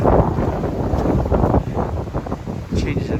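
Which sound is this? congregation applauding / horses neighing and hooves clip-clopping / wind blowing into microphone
wind blowing into microphone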